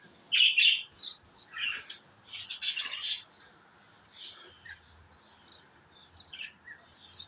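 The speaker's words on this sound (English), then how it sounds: "And the birds are all getting on that species." Backyard birds chirp after rain with bursts of bright, high tweets and squawks, loud and near at first and then sparser and fainter, with pauses between calls.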